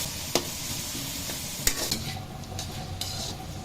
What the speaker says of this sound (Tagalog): Tayo naman ay maggigisa ng ating sangkap para sa ating pagluluto ng spaghetti sauce.